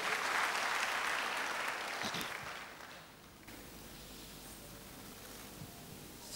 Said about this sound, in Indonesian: Tepuk tangan yang meriah buat Tuhan, haleluya.